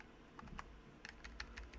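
Rapid clicking of computer keyboard keys in short irregular bursts, moderately close and fairly quiet, with no talking over it.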